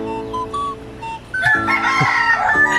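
A backyard rooster crows once, close and loud, its drawn-out call rising over scattered soft clucks from nearby chickens, ducks and turkeys.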